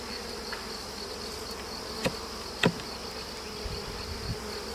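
Gentle honeybees buzz around a nucleus colony frame, a steady close hum with a couple of brief sharp knocks partway through and no voices.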